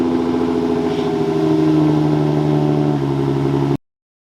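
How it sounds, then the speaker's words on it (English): A lowered Infiniti G35 / Nissan 350z runs with a steady, droning engine note that rises slightly as it pulls away, loud and close with no talk, then cuts off abruptly. "let's go ahead and turn on the car and go for a drive."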